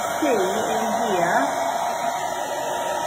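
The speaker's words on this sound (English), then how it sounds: "I'm just going to put the hairdryer on." A handheld hair dryer blows with a steady whirring hum and airy hiss, running continuously while someone speaks briefly over it early on.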